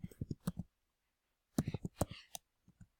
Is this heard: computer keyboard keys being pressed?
yes